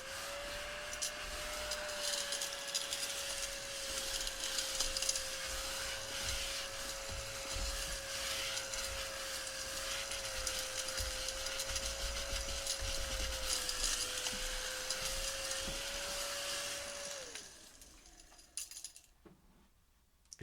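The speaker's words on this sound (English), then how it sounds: "it's a keyboard vacuum, but it works pretty well" A small handheld keyboard vacuum whirs steadily up close for about seventeen seconds while sucking up eraser shavings, a constant motor whine with faint scratching and rubbing, then switches off into quiet handling noises.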